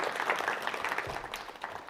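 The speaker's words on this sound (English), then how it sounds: "Give the Canadian a big round of applause." Audience applause at a talk, a steady patter of many hands clapping at once, moderately loud and sustained throughout.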